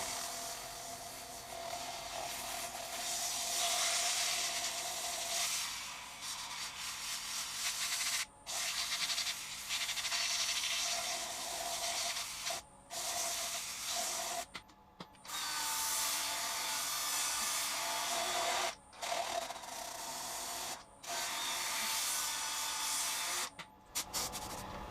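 An 80 grit sanding pad grinds steadily against a walnut bowl on a wood lathe, a loud, continuous rough hiss broken by several brief pauses.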